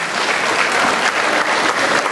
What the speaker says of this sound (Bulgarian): Да, аплодисментите са за нея.